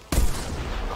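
A single-shot rifle fires once at magpie geese in the hunting game theHunter Classic, a sudden loud report followed by a short fading tail, with no talk.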